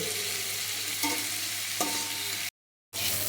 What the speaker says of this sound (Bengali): আমার মশলা একদম ভালো করে ভাজা হয়েছে